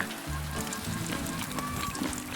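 Steady rain patters and hisses on a surface, a continuous close wash of drops with faint murmuring underneath.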